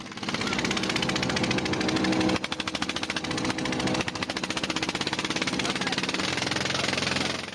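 A Chinese fishing boat's engine runs loud and steady close by, with a rapid rough chugging throb and a clatter that shifts partway through, and no voices over it.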